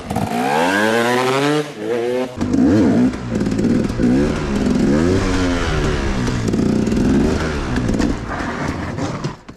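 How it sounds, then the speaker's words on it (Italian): A motorcycle engine starts and revs, then roars continuously at close range as it pulls away and rides, pitch rising and falling with gear changes. "io posso accendere la moto e partire"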